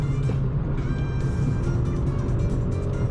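An 8th-generation Honda Civic Si is driven on the road, its engine giving a steady, loud drone with a strong low rumble that holds without a break.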